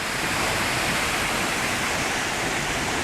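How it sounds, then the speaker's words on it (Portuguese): Constant dense roar of rushing water from a waterfall with two drops at PETAR, loud and close, steady broadband noise with no pauses and no voices. "Tem duas quedas, Danilo."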